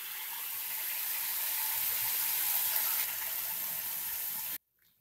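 Cooked dal water poured into a hot kadai of tempering with curry leaves for tomato pappu: a loud, steady rushing pour and sizzle that runs about four and a half seconds, then cuts off abruptly.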